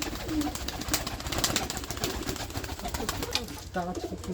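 Pigeons cooing among high flyer birds, low throaty coos repeating steadily through dense, busy background noise with faint voices underneath.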